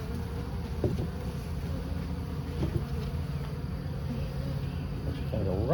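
A honeybee swarm being hived into a box, a dense continuous buzz of many bees close by, with faint rustling and handling noises throughout.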